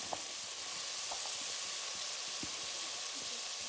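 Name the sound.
potatoes frying and being mixed in a pan with spices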